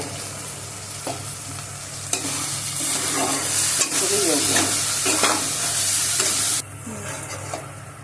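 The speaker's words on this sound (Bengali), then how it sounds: "লবণ, হলুদ দিয়ে মশলাটা ভালো করে ভেজে" Spice paste with salt and turmeric fries in a pan for an egg curry, giving a loud, steady sizzle broken by repeated spatula scrapes and stirring. The sizzle drops off sharply near the end.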